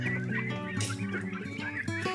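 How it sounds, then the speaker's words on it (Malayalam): A flock of three-month-old turkey chicks calls continuously, overlapping peeps and honking chirps, close and lively with no pauses. "നമ്മുടെ ടർക്കികളുടെ പുതിയ ബാച്ചിനെ കണ്ടോ ഇപ്പൊ ഇങ്ങനെ അഴിച്ചു വിട്ടേക്കുകയാണ്"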